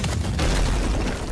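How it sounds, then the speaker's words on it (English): A loud, continuous boom from an explosion in a stickman animation fills the moment, a dense low rumble with a sharp burst at the start and another surge partway through. "Oh, that explosion!"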